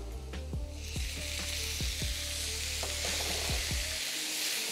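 Browning onions sizzle steadily in a hot pan as tomatoes are added and stirred, with a run of sharp utensil clacks over the continuous frying hiss, close and fairly loud.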